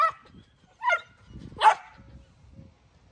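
Several dogs barking and yipping in a garage, short separate barks near the start, around one second and a louder one mid-clip, with faint low rumbling between.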